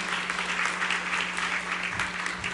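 Steady, dense applause from a crowd at a church's 81st anniversary celebration, many hands clapping continuously at an even level, with a low hum underneath.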